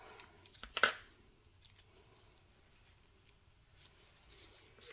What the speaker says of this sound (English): now let's snip the end off